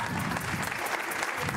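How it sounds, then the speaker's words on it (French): Theatre audience applauding the performers at a Téléthon talent show, a dense steady wash of clapping filling the whole moment, loud and continuous. "j'aimerais que vous applaudissiez encore une fois tous ces artistes"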